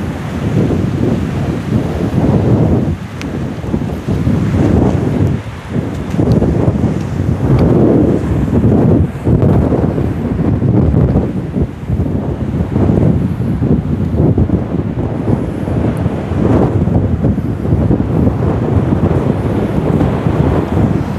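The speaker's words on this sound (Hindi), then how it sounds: "अभी इसमें लहरें बहुत तेज़ हैं, बहुत ज़्यादा तेज़ हैं" Strong, rough sea waves and gusting wind at Chettikulam beach near Kanniyakumari on a full-moon day, a loud continuous roar of surf with heavy wind buffeting the microphone throughout and no speech.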